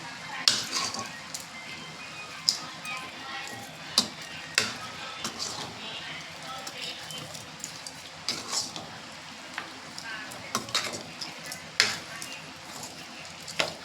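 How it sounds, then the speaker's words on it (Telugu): Chicken fry being stirred and mixed in a pan: a gentle sizzle runs throughout while a spoon scrapes and knocks against the pan in irregular, fairly quiet strokes. "మంచిగా మిక్స్ చేసుకోవాలి"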